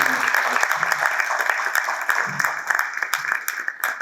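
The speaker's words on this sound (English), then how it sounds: "Very big round of applause." A big round of applause from an audience at a chapter award celebration and seminar, dense steady clapping filling the room with some voices mixed in.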